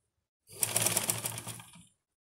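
A sewing machine stitches a seam on fabric for an overall, one short burst of rapid, rattling needle strokes up close, starting and stopping after about a second and a half, alone without talk.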